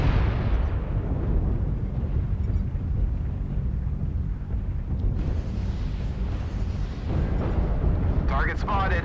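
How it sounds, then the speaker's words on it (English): Video game combat with incoming missiles striking, heard as a steady heavy rumble of explosions and artillery-like blasts, loud and continuous, with a brief sharper burst near the end. "Warning, incoming missile."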